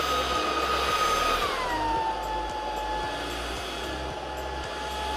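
A Proscenic P11 cordless stick vacuum cleaner gives a steady, loud motorized whine with a constant airy roar, its pitch dropping slightly partway through as it moves onto a carpet, then holding level without pause.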